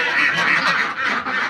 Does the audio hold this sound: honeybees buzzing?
no